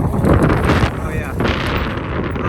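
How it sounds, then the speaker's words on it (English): Loud wind buffeting the microphone during an enduro ride, continuous roaring gusts with a swell midway, and a voice briefly underneath. "Good timing with that wind, huh?"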